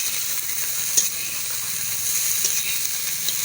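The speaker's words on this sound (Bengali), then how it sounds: "দেখো এখন ফুলকপিটা ভাজা হবে" Small cut cauliflower pieces fry in oil with a loud, continuous hiss, dotted with a few sharp pops and spatters throughout.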